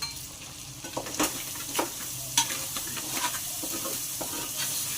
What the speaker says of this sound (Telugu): బ్రౌన్ కలర్ వచ్చేంత వరకు మంచిగా డీప్ ఫ్రై చేసుకోవాలి